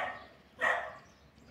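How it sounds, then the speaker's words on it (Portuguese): Dogs barking briefly in the distance, a single short bark burst standing out against quiet background noise. "ela vai lá pra trás pra brigar com as cachorras"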